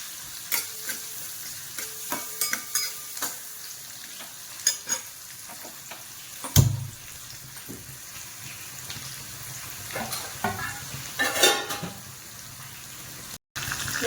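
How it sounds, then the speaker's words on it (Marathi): Onion with green chilli sautéed in a pan, a soft constant sizzle with repeated scraping strokes of a spoon stirring, plus one louder knock near the middle. "आता याच्यात आपला कांदा चांगला परतून घ्यायचा आहे।"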